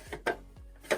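Plastic storage drawers are handled at home, giving three or four sharp clacks and knocks spaced irregularly within a second, close and fairly quiet.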